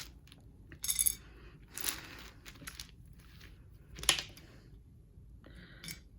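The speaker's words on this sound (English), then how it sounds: "it is kind of loud when I shuffle these out of the bag" Tarot cards are pulled and shuffled out of a bag in a few sharp, crisp bursts of rustling and clicking, separated by quiet pauses.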